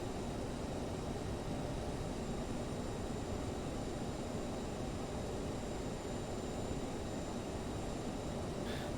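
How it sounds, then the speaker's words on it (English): Aerosoft CRJ regional jet taxiing on an airport taxiway in Microsoft Flight Simulator, a steady broadband engine roar and hiss that holds at a constant level throughout, with no talk. "So we're just taxiing in here."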